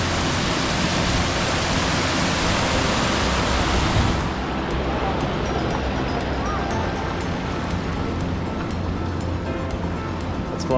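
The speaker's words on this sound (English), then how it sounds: "waterfalls, water flowing up off the high escarpment." A waterfall pouring off a high escarpment on the Berkeley River in the Kimberley roars steadily and loudly, a dense continuous wash that softens slightly partway through.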